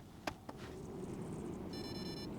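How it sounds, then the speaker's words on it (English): A home PC motherboard gives five high, steady electronic error beeps, preceded by a couple of faint clicks over a low background hum. "But it's giving me 5 beeps."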